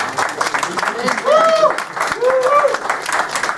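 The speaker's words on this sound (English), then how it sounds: "let's give him a round of applause" A crowd applauds a performer named David, with dense, steady clapping filling the whole stretch and voices calling out over it.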